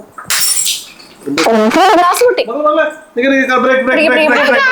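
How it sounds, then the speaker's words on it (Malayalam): Glass shatters at home in a brief bright crash near the start, followed by loud excited family voices talking over one another. "ഗ്ലാസ് പൊട്ടി"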